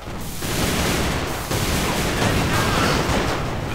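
AK rifle fire from Alliance of Valiant Arms, a dense, loud, nearly continuous barrage of shots running unbroken through the whole stretch, with a brief dip near the start.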